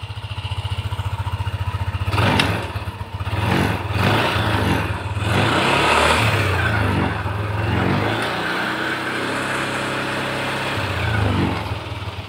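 A small used scooter engine with a CVT gear-ratio fault idles with a steady putter, then revs up repeatedly in loud bursts before settling back to a rough running drone.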